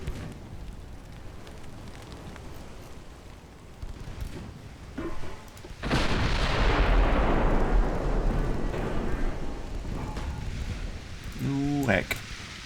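Battleship main guns fire in the Ultimate Admiral Dreadnoughts naval game: a sudden, heavy roaring blast opens into a long rumbling boom that sustains for several seconds, with faint distant gunfire before it and a brief voice near the end.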